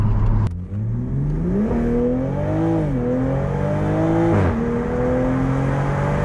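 A bone-stock 2020 Toyota Supra A90 pulls hard down a drag strip, its engine note climbing steadily through the revs with a couple of brief dips at gear shifts, loud and close throughout.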